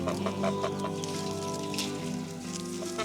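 On a small self-sufficient farm in Italy, chickens cluck steadily nearby, with a patter like rain and soft background music layered underneath.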